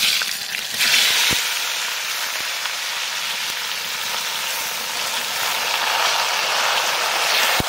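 Jujubes frying in hot oil with five-spice and dried chilies as kul achar is made, a steady bright sizzle that swells slightly at the start and end, close and alone with a few faint clicks.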